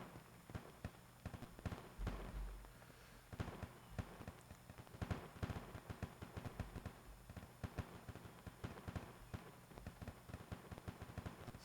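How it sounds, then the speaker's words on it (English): A distant gun battle in the video game Arma 2, with steady crackling bursts and single shots scattered across the whole stretch, faint and far off, without a clear break. "it sounds like some fairly heavy fighting off to my right"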